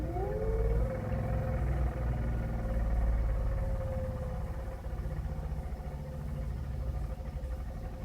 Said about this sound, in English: rev the engine a little bit.